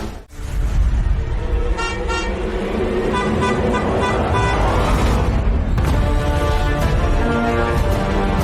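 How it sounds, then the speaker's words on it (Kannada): A car horn honks again and again in a busy street, with short repeated toots over a constant roar of traffic and engine noise. "ಅಷ್ಟೊತ್ತಿಂದ ಹಾರ್ನ್ ಹೊಡಿತಾ ಇದ್ದೀನಿ,"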